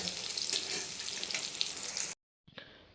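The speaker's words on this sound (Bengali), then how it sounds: "মাংসটা ধুচ্ছে" Tap water runs steadily into a sink as raw meat is washed in a home kitchen, a continuous splashing rush that cuts out abruptly near the end before a brief resumption.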